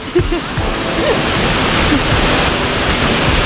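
Tad Yueang waterfall in southern Laos roars as a loud, continuous broadband rush of falling water, with a few faint voices in the background.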